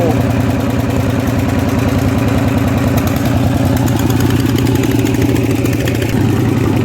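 Tuned gear-four motorcycle engine at a rural field in Chainat, built by a Suphan workshop, rumbling loud and close with a steady, throbbing idle and rising revs near the end, with voices partly over the engine.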